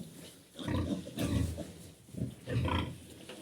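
12-day-old piglets squeal and grunt at a feeding trough in four or five noisy bursts, close by, with brief quieter pauses between the outbursts.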